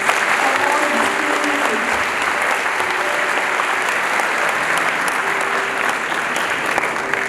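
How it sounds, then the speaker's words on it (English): A large audience applauds loudly at a school welcome ceremony for an archbishop, a thick, continuous roar of clapping sustained for over seven seconds, with faint voices and murmurs mixed in. "may I have a huge round of applause"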